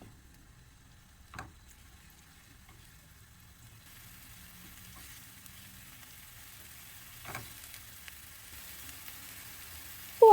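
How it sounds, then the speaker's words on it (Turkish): Grated onion sautéing in hot olive oil in a pan, a faint, steady low sizzle with a few soft clinks, quiet and without talk. "Yağ ısındıktan sonra tavaya aldım. E, biraz kavuracağım."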